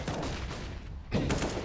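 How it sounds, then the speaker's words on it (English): Rapid overlapping rifle fire from AK rifles and AWP shots in a Counter-Strike match, a dense continuous barrage with a louder burst near the end, no speech over it. "Just everyone spamming their guns."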